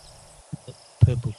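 A purple-crested turaco calls in the background with a few low, croaking frog-like notes, two short isolated hoots followed by a louder, rougher burst of throaty calls.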